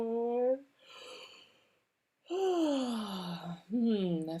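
A singer yawns with a sliding, breathy pitch during a relaxed vocal warm-up, heard as a couple of drawn-out voiced glides separated by a short pause.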